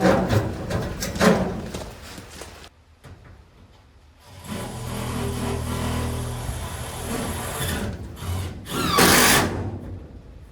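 A power drill drives screws into the framing of a shop build during insulation installation, with several sustained whirring runs of the motor, loud and close, separated by brief pauses.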